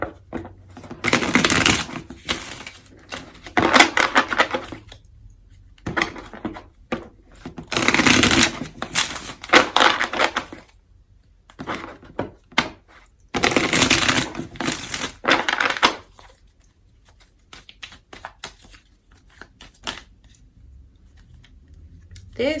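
A tarot deck is shuffled by hand in several bursts of rapid papery riffling and slapping, with short pauses between them. The close, fairly loud card noise plays alone with no talking.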